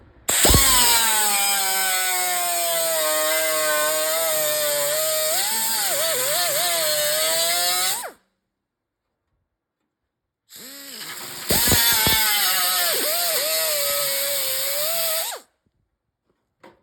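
Power tool cutting a metal patch panel for the front fender of a 1964 Chevy Impala, loud and close. It runs in two long steady passes of about eight and five seconds with a pause between them.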